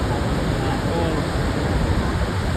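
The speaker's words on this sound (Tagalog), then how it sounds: "Malakas ng hangin, malakas ng tubig na tumatalsik" Near a waterfall, strong wind and spray produce a dense, continuous roaring wash of noise, loud and close, with splashing water blended into the gusting rush.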